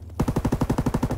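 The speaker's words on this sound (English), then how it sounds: "Firing primary battery." Rapid automatic gunfire from primary battery guns in a WWII video game, about a dozen evenly spaced bursting shots in quick succession, loud and close, with no talk over them.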